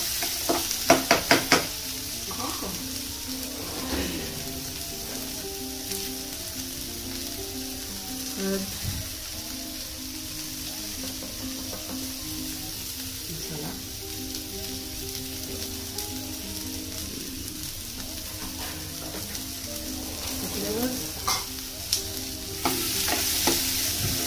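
Food being sautéed in a pan gives a steady sizzle, with spoon scrapes and stirring knocks throughout and a few sharper clatters near the start and end. The sound is close, and no one speaks for most of it.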